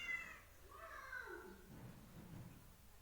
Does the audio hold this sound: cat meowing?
yes